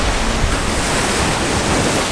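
Strong, steady wind roars and buffets across the recording at a beach, mixed with the broad wash of surf, loud and continuous with no talking.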